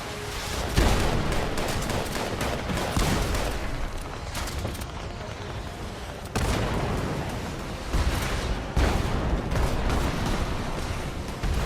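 Turret gunfire in the video game Fallout 76, heard as dense, continuous bursts of rapid shots and blasts with brief lulls, loud and close, with no voices.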